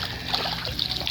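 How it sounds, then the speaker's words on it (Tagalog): Four-month-old tilapia in a biofloc pond thrash at the surface while snatching feed from a hand, making continuous close splashing and trickling water. "Tinatapunan nila ng tubig hanggat maubos yung feed sa kamay ko"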